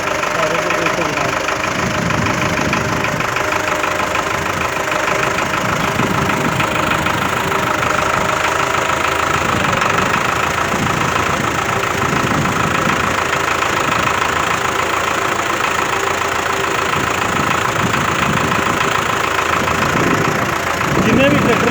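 A Belarus 510 tractor engine runs steadily at a loud, constant drone in a maize field, with someone talking over it.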